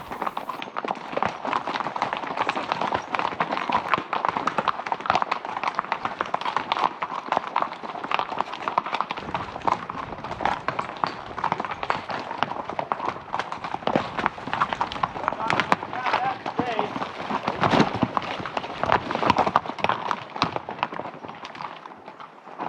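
Hooves of four pack horses traveling with five riders clop steadily along a road on a back-country pack trip, a dense continuous rhythm of footfalls close by, with talking mixed in throughout.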